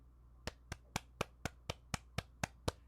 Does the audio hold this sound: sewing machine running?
no